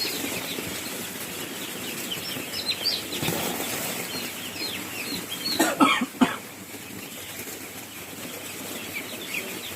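A batch of farm chicks being delivered fill the air with busy, overlapping high peeps, with a brief burst of fluttering wings near the end.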